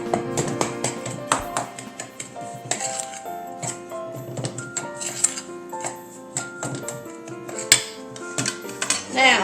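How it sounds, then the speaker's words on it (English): Dry ingredients and spices for fruit cake cookies are stirred in a bowl, producing brisk, irregular clinks and scrapes of a utensil against the bowl, close and fairly loud with no talking. "I'm just going to mix this all up real good."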